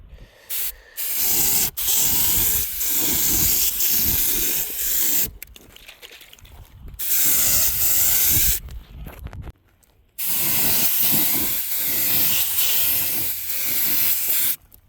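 A spray gun lays a light first tack coat of paint onto a Humvee HMMWV rear AC evaporator box from about ten inches away, heard as loud, sharp hissing bursts of several seconds each, separated by short pauses.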